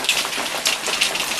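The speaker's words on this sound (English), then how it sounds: "It is hailing here in Dallas as I'm editing a piece." Hail falls in a Dallas back yard during a storm, a dense, steady patter of stones striking surfaces with brief louder bursts of heavier impacts and no talking.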